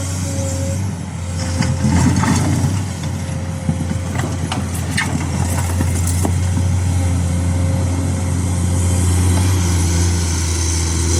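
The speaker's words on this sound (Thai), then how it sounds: "เครื่องยนต์ตัวนี้กระหึ่มมากครับ เครื่องยนต์6สูบนะ SAA ครับรหัสเครื่องยนต์ครับ" A Komatsu PC210MO excavator's six-cylinder SAA diesel engine runs close by, a loud, steady droning hum with a low rumble and some faint rattles and clanks over it.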